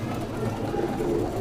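Madrasi pigeons give a soft, low cooing murmur up close, a short steady rumble with slight voice-like undertones in the background.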